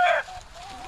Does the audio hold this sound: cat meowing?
no